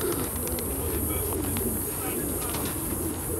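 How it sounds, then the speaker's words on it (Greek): Pigeons coo inside a loft, soft repeated calls and occasional chirps set against steady fan-like hum and shuffling, with faint voices in the background. "πάμε να τα δούμε και μέσα τα πουλάκια"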